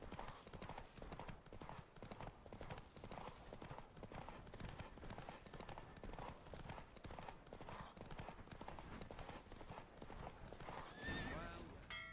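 In The Witcher 3: Wild Hunt, rapid galloping hoofbeats drive forward over busy game music, with a horse's whinny breaking through near the end.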